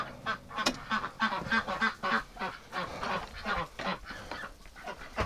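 Ducks inside their coop on a snowy winter day give a run of close, loud, rapid quacks and honks, overlapping in irregular bursts with no pause.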